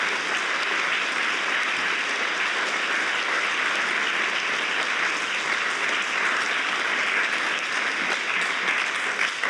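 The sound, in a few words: audience applause for graduates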